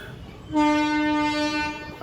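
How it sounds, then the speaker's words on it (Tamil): A train on a railway sounds its horn in one loud, sustained blast of about a second and a half, close by, with rail noise around it. "ஹார்ன் அடித்து நமக்கு அந்த தொடர் வண்டி"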